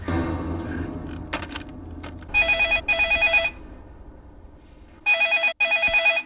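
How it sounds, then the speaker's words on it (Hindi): A telephone rings in two bursts of the classic double electronic trill, loud and close after a few quieter knocks and rustles, with no voices. "फोन बज रहा है"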